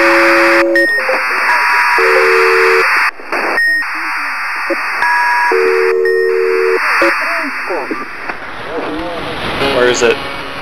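Beeping radio signal tones from the video game Antenna, steady pitched bleeps that start and stop over a buzzy, static-laden electronic hum. The noise changes and warbles toward the end.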